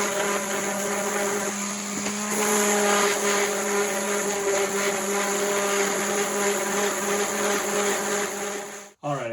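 A handheld power sander whines steadily while sanding small segmented wooden spintop pieces, a continuous tonal buzz with slight shifts in pitch as it works, cutting off abruptly near the end.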